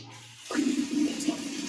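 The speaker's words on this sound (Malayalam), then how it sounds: "അതാണ് നല്ല വെള്ളം വരും" Water starts flowing from a home tap after its clogged filter is cleaned, a sudden steady gushing rush after a brief quiet moment, close and continuous.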